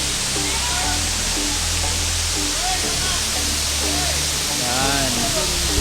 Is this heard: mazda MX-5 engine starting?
no